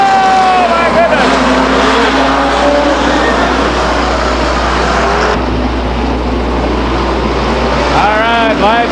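Race cars circle the Stockton 99 Speedway oval in 2001, their engines droning loud and continuous with rising and falling pitch as cars pass, under a crowd wash and a public-address voice.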